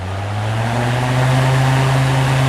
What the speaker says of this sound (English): This fan kicks out some serious air.